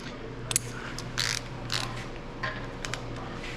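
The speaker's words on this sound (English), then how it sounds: "First step, 50, because that's as low as this torque wrench will go" Torque wrench ratcheting and clicking while snugging engine block bolts on a 7.3 Powerstroke short block, a few sharp metallic clicks scattered over a steady low hum.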